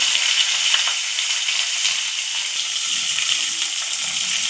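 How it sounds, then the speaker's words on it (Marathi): Curry leaves, mustard seeds, cumin and asafoetida hit hot tempering oil for sabudana khichdi, making a loud, steady, close sizzle that holds unbroken throughout with no voices. "तर आपण फोडणीसाठी अगोदर कढीपत्ता, नंतर राई, जिरा, हिंग हे सर्व टाकत आहोत"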